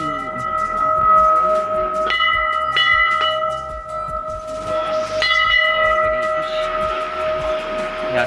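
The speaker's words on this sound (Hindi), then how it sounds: "एक और जगह घंटी।" A temple bell at the Maa Bhagwati (Kotgari) Mandir in Pankhu, Uttarakhand, struck several times at irregular intervals, each strike leaving sustained ringing tones over steady outdoor background noise.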